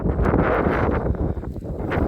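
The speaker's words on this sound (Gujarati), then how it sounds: "પવન દુનિયાનો આવે દુનિયાનો પવન આવે" Strong wind buffets the microphone continuously by a stream, a loud low rumble with gusty surges throughout.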